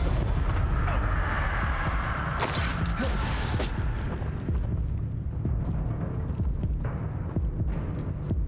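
Protego, Levioso and Incendio spells cast in quick succession in the video game Hogwarts Legacy, a loud layered stream of magical whooshes, fiery bursts and rumbling impacts, with a bright flaring blast early and scattered crackling hits continuing afterward.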